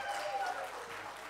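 Conference audience at an African higher-education innovation session applauds and cheers for the Mozambique delegation, a brief mid-level burst of clapping and crowd noise with a faint voice mixed in.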